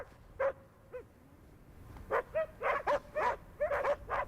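Dogs at a mountain expedition camp on Klyuchevskaya volcano, with a couple of whining yelps, then a rapid series of high whimpers and short barks close by.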